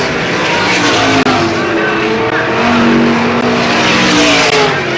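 Race cars roar through a heat race at Selinsgrove Speedway in 1988, a loud continuous wall of engine noise with rising and falling revs as the cars pass, heard without talk.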